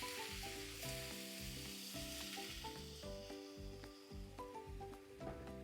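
An egg fries in a pan with a splash of water poured around it, a close, busy crackling sizzle that bubbles continuously while music plays loudly over it.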